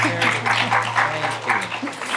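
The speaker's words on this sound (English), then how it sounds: "We need some more applause on that." An indoor audience at a talk breaks into sustained applause, dense clapping filling the room at steady loudness for a couple of seconds.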